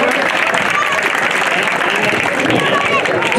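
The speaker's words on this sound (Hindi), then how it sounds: "स्वागत करें, ताली बजाएं।" An audience at the closing ceremony of a Paliwal community sports competition claps steadily and loudly, a dense continuous wash of applause mixed with crowd murmur.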